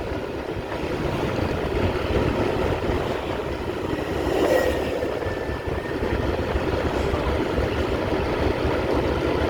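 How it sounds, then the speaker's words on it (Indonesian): Strong wind roars steadily and loud, a dense continuous rush with a faint whine passing midway, no voices. "Angin juga lumayan kenceng sekali ini."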